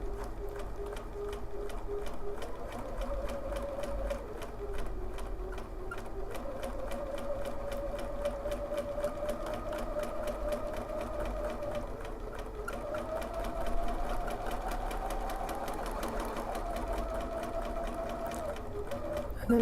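A sewing machine stitches a flower in freehand couching embroidery, running as a steady close whirring drone through the whole stretch with slight shifts in speed, while someone talks quietly over it.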